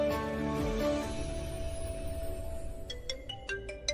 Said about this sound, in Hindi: ऋषि भाई का फोन आ रहा है, भाभी उठा लो